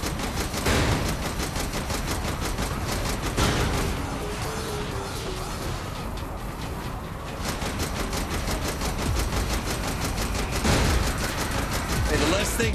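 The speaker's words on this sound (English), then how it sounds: "Hey, the less things shooting at me, the better." Sustained rapid automatic gunfire from turrets in Saints Row: The Third, loud continuous bursts with periodic heavier impacts and crashes layered over engine drone and game effects, with voices occasionally beneath.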